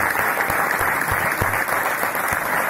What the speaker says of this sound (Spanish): Aplausos a Martín